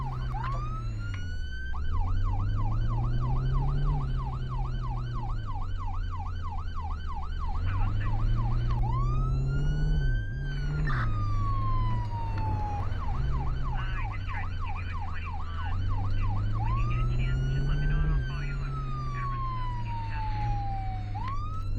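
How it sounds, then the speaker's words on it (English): Emergency vehicle sirens responding to arson activity wail loudly and continuously, sweeping up and down in repeated cycles with fast yelps switching to slower wails, close and steady throughout over a low engine rumble. "They hear sirens and go absolutely dumbfounded."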